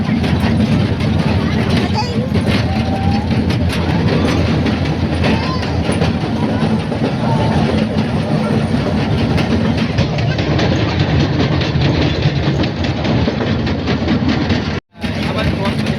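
A train running along a curve near a temple in Gandhinagar, a loud continuous rumble with clickety-clack of wheels and some wind, heard close for the whole stretch.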